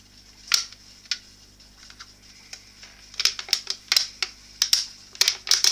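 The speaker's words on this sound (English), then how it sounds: "Sometimes all you need to do is just pierce a hole enough to get a pair of scissors in, and then you can start cutting" Scissors cut through a thin aluminium drink can for a homemade alcohol stove, giving sparse crisp snips that quicken into a rapid series of sharp, metallic clicks close by.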